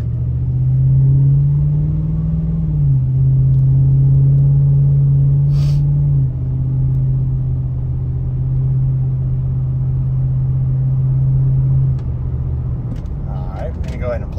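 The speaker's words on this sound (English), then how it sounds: "We're going to go ahead and take a quick test drive." Steady low engine rumble of a 2007 Ford F-150 FX2 pickup truck cruising along on a test drive, a brief rise in pitch early on, continuous and close throughout.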